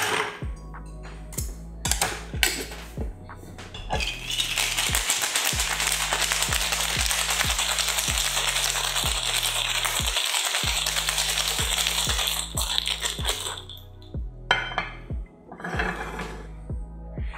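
Ice rattling hard inside a cocktail shaker, a steady rapid shaking that runs for several seconds before tapering off, over a faint repeating low background beat.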